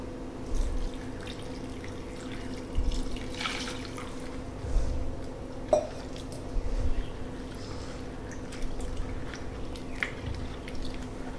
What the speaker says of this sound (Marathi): सर्वप्रथम आपल्याला ह्या कैऱ्या स्वच्छ धुवून घ्यायच्या आहेत